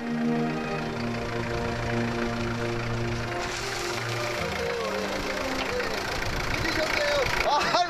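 A truck idles in a highland village, its engine a steady mid-pitched rumble with a faint knocking rhythm, close and continuous under a narrator's voice and a brief shift in tone partway through.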